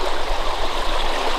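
A stream flows under a log in a trapline channel, giving a steady, close, full-bodied rush and gurgle of water that holds even throughout.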